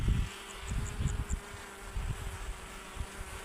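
Honeybees buzz around their hives, a low wavering hum with scattered closer passes over a steady outdoor background.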